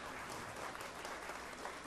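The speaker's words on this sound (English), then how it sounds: "can everyone please give her an applause?" An audience at a church Christmas cantata applauds a soloist, with steady, dense clapping at moderate level and no voices over it.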